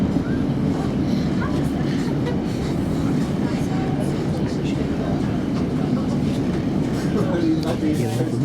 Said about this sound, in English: this train's proceeding very cautiously.